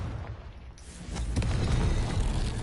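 A Confringo blast from the Hogwarts Legacy game erupts as a loud, rumbling explosion that swells after a short lull and holds a dense, booming roar to the end.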